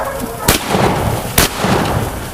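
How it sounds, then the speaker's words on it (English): Two sharp gunshots ring out about a second apart during a wild boar hunt in a field, loud against a rough, windy outdoor background. "A gunshot cracked through the air."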